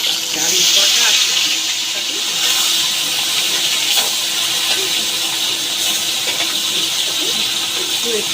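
Barramundi fish bones fry in hot oil in a pan, giving a steady loud sizzling hiss with small crackles throughout, while someone talks nearby.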